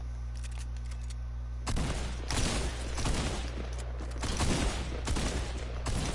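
Sustained video game gunfire, a dense crackling rattle of rapid shots that kicks in after a quieter hum and continues in loud, close bursts.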